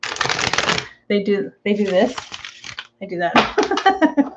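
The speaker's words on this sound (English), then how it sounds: "And we're shuffling, and you know, I shuffle like Vegas style." A deck of oracle cards is shuffled Vegas-style in close, crisp riffling bursts with a soft cascading flutter, broken by short pauses while someone talks over and between the shuffles.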